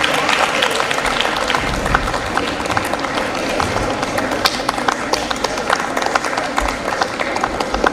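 Loud, dense clapping from a large crowd at an award ceremony, a continuous rapid patter that stays strong and close the whole time, with faint voices mixed in.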